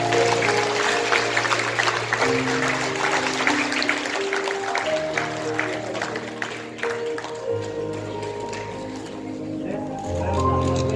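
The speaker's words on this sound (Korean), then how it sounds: "여러분 큰 박수 주시기 바랍니다" Audience applause at an awards ceremony during a Korean cultural and economic exchange evening, sustained clapping running throughout under background music and some voices.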